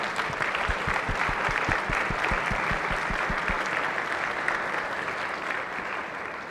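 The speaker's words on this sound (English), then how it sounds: "Let's give them a round of applause." A round of applause in a state Senate chamber, many hands clapping with some distinct close claps standing out early, then settling into a softer steady patter that slowly fades.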